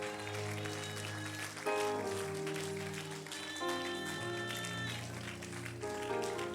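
A church congregation claps along steadily during a worship service. The patter of many hands runs continuously under sustained keyboard music, moderately loud, with no speech standing out.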